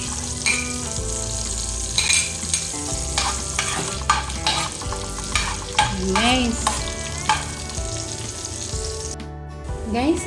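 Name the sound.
garlic frying in butter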